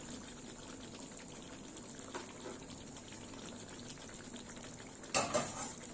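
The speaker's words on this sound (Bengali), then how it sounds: "আর একটু ফুটবে" Pointed gourd and poppy seed curry simmering in a pot, a faint steady bubbling hiss close by, ending in a brief louder rattling clatter.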